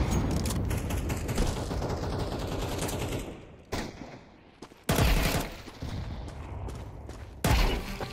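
Gunfire in the video game Counter-Strike 2, dense bursts of rapid automatic shots crackling loudly, then a lull broken by sharp single and clustered shots, with no talking.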